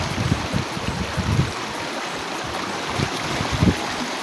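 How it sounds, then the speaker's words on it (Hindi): Fast-flowing water rushes down Sim Nala stream at Salehabad, a close, continuous broadband roar with gurgling low surges pulsing irregularly beneath it, no voices heard. "हाँ पानी की रवानी और बहता हुआ पानी दूर तक जा रहा है।"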